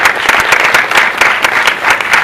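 Applause from an audience at a classical dance award ceremony honouring Poonam Dhillon and Sunil Pal, loud and continuous with sharp individual claps standing out in a steady rhythm.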